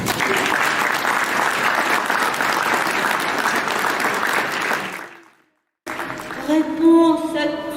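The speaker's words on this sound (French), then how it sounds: "je vous propose de nous applaudir tous parce que nous le méritons bien." An audience at an arts biennale in Saint-Étienne breaks into sustained, dense clapping that fades out after about five seconds, followed by a brief silence and then someone speaking.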